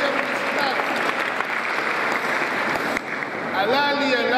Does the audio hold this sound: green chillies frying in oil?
no